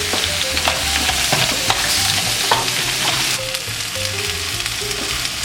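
Shrimp and clams sizzle steadily in a hot pan with tomatoes and onions for paella negra, a dense frying hiss broken by scrapes of stirring, close and without talk.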